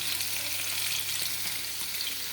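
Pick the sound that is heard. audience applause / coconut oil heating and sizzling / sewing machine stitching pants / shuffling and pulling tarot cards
coconut oil heating and sizzling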